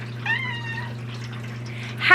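A kitty meows once in a drawn-out, wavering cry close by on a homestead farm, over a steady low hum with a brief rustle at the end.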